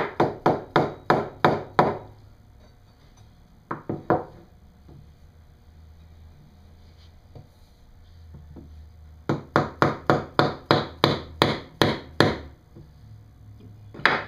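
A tapered wooden wedge is hammered into an axe handle. Two quick runs of sharp, close knocks bracket a short burst of blows and a quiet stretch with faint handling noise.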